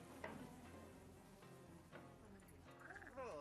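Frogs croak faintly in a spooky Halloween game setting, a low continuous chorus under other murmuring sounds, with a rising warbling call near the end.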